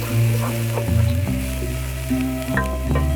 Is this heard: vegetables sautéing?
yes